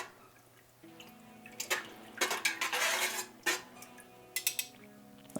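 A utensil stirs and clinks against a pot of sock-yarn dye mixture, with scraping, rattling bursts and a few sharp metallic taps over a steady faint background hum, no talking.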